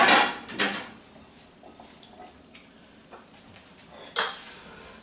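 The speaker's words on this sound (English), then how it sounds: "Our celery, all that stuff, the cherry tomatoes, All go in the pot." Chopped vegetables for an asparagus salad, celery, cherry tomatoes, peppers, parsley and cucumbers, go into a kitchen pot, with a few close clinks and clatters of dishware and utensils between quieter pauses, no talking.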